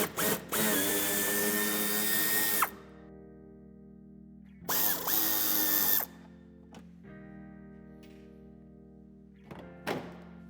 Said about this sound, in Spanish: será necesario que quitemos 2 tornillos en el paso de ruedas y un tercero en la esquina